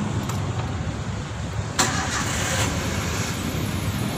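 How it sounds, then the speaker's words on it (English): A car engine in a small MPV campervan turns over and catches with a brief louder burst partway through, then settles into a steady, close idle rumble. "it's better for me to start the engine so I can charge back my battery"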